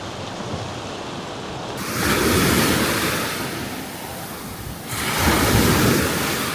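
Sea waves roll and crash in broad surges at a seaside campsite in Gökçetepe Nature Park, Edirne, Turkey, amid gusting wind buffeting the microphone, two swells rising noticeably louder.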